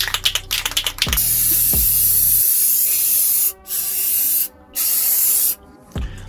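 Steady hissing spray from an aerosol can of white paint being sprayed onto a cage, running in long bursts with a few brief pauses, close by and loud, after some clicking and rattling at the start.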